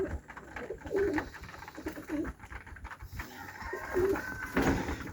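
Modena pigeons coo repeatedly in throaty, rolling calls, several close voices overlapping in a loft with faint shuffling in the background.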